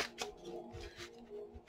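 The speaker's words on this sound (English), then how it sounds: "Let me give it a hard shuffle real quick." A deck of cards is shuffled hard for a short burst: quick, close riffling and snapping, alone and fairly quiet.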